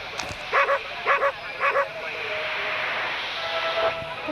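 A dog barks inside the horror video game Nightmare, three quick double yaps spaced evenly near the start, fairly close and clear, followed by a steady hissing ambient drone with no talking.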